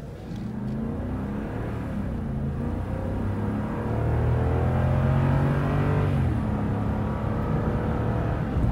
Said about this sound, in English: let's test out acceleration